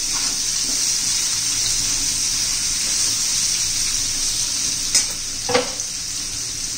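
Raw banana pieces sautéing in oil, a constant bright sizzle heard up close, broken near the end by a couple of short scraping knocks of a spoon against the pan.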